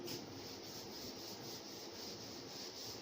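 A board is rubbed clean during a maths lesson, giving a continuous soft, even scrubbing hiss that is faint and close, with no speech.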